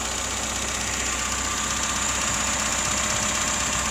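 A restored 1973 VAZ 2102 Zhiguli with contactless ignition and adjusted valves idles steadily nearby, a continuous even mechanical hum with light ticking and no voices.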